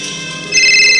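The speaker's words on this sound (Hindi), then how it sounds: "अरे ये शुनके का फोन" A mobile phone rings loudly and alone, a steady electronic ringtone that grows stronger halfway through.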